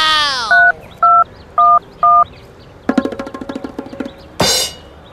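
A telephone is dialed in a comedy sketch: four evenly spaced keypad tone beeps, then a rapid run of clicking pulses and a short hissing burst at the end.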